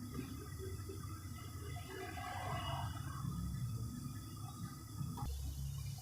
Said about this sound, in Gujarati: પાણીને થોડુંક પહેલાં ઉકળવા દેવાનું